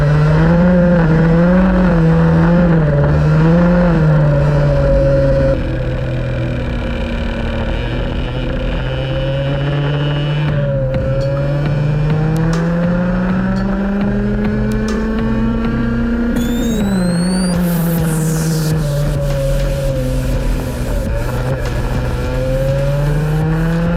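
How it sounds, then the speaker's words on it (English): An X30 kart engine roars during a kart club race, its pitch rising and falling continuously as it accelerates and brakes through corners, loud and close-up with a brief high whine late on. "listen to the roaring power of my X30 engine blasting through the pack once again"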